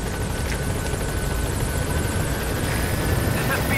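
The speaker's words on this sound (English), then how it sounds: "Helicopter. Right there." A helicopter in a video game thumps and roars loudly and continuously with a dense, rumbling rotor and engine drone throughout.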